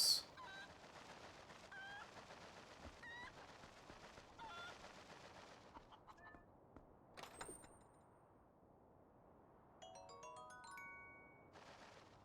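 Chicken clucks and squawks from Zelda: Twilight Princess, a game-sound effect mixed with in-game background audio and occasional chimes, moderately loud and without talk.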